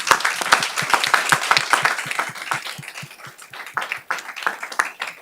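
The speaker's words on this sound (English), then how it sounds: "let's go ahead and give him a round of applause" Applause from an audience at a Modesto City Schools Board of Education meeting, a steady patter of many hands clapping for about five seconds, dense and fairly close, thinning slightly toward the end.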